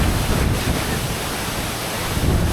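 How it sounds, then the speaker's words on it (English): Labuhan Kebo waterfall in Munduk, Bali, pouring down with powerful force, a dense, steady roar of rushing water close by, with wind buffeting the microphone. "Our third waterfall, which is Labuhan Kebo."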